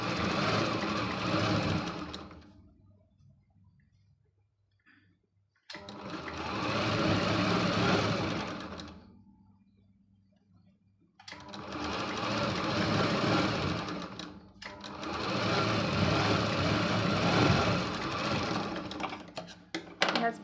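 A sewing machine stitches fitting tucks into a blouse in three long bursts of rapid close whirring, separated by quiet pauses, with a voice talking softly between runs.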